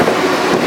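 A freight train rolling on rails near Salt Lake and Ogden, a loud, close, steady rumble with dense metallic rattle for a brief moment, no voices.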